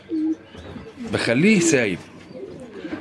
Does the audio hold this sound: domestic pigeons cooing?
yes